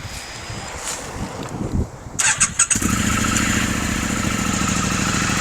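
A motorcycle fitted with a decat pipe cranks with a few sputtering bursts, then fires up and settles into a steady, loud idle, recorded close outdoors with some wind noise.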